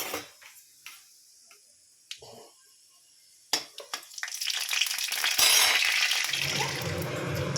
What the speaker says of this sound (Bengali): এই যে 5 ফোড়ন আর শুকনো লঙ্কা ফোড়নে দিয়ে দিলাম